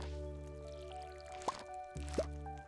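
Two short watery plops from a watering can on crops in the farming game Stardew Valley, spaced about a second apart over a steady game music bed.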